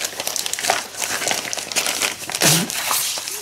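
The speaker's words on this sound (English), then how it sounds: "It comes in a plastic bag. I'll take it out." A plastic bag crinkles and rustles up close as a printed manual is pulled out of it, in a dense burst of crackling lasting a few seconds.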